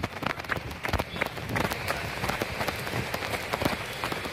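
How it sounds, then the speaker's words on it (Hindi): Steady rain patters and splashes on a hard surface nearby, a dense hiss broken by irregular drips and taps. "बाहर बारिश हो रही है"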